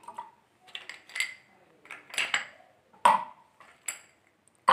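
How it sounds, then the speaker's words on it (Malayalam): Three ice cubes drop into a glass of coconut lime drink, making sharp glassy clinks and knocks spaced over a few seconds in a quiet room, loud and close, with no talk. "ഇനി ഇതിലേക്ക് നമുക്ക് 3 ഐസ് ക്യൂബും കൂടി ഇട്ട് കൊടുക്കാം"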